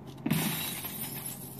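Glass chemical bottles shatter sharply once in a video game, a bright crash of breaking bottles followed by a short scatter of debris over a steady background hum.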